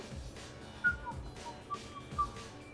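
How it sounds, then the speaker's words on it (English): Faint whistled notes from a character in the video game Mass Effect 3, set at a party on the Citadel: a few short, thin tones spaced apart over a low murmur of background ambience. "Are you whistling?"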